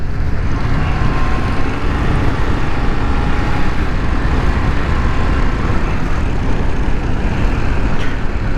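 A 2022 Indian FTR R Carbon 1200 motorcycle rides along at a steady cruise around 4,000 RPM, its engine drone loud and constant, mixed with rushing wind noise, with no letup throughout.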